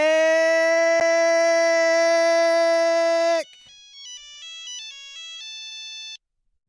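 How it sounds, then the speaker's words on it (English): Phone ringtone rings loudly with a sustained bright tone for about three seconds, then shifts to a quieter sequence of short melodic electronic notes before stopping abruptly. "Your Nick, your phone is ringing"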